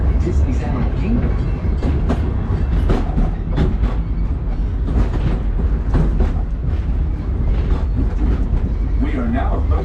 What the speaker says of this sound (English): So we just got off the train ride.